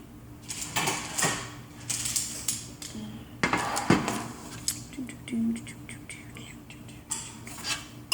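A metal baking pan grabbed and handled in a home kitchen while making gluten free chocolate chip cookies, with a scatter of light metallic clinks and clatters close by, short and uneven.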